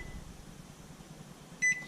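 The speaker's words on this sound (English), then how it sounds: "turn the timer on again and cook them for another 15 minutes" An oven timer gives a single short, clear electronic beep near the end while it is set, after a stretch of quiet, low kitchen hum.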